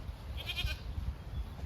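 Sheep and goats bleating on a farm, with one brief, fairly faint bleat rising over steady low rumble and outdoor background noise.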